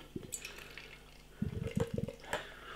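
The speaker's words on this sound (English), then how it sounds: "Let's get it out into a glass and see what we get." Double NEIPA from Hop Nation Brewing poured from a can into a glass: a few soft, splashy glugs and trickles in short bursts, quiet and close, with brief pauses between them.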